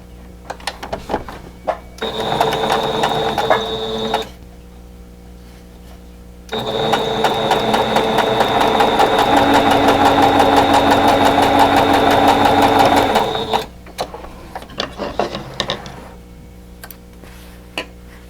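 A sewing machine stitches quilt block pieces in two runs, a short burst and then a longer steady whirring pass, close up, with quiet handling noises between and no talking.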